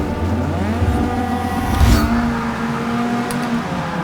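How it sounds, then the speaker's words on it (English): Race car spinning its wheels in Forza Motorsport 6 at the Nürburgring, driven with a Fanatec ClubSport wheel and pedals: engine roar rising and holding a pitch, with a brief louder burst midway, continuous and alone. "And a lot of wheel spin."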